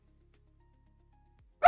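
A dog gives a single sudden loud bark right at the end, after near silence indoors.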